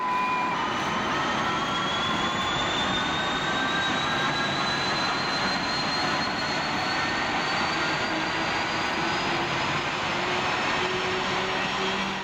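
An early Power Jets jet engine, tested in April 1937, runs away and accelerates out of control, giving a loud, steady roar with rising whining tones that climb in pitch throughout, with no voices.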